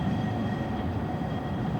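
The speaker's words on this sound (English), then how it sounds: "You can see the trams passing by." Trams in Prague rumbling past, heard from above as a steady, continuous rolling drone with rail noise and no voices.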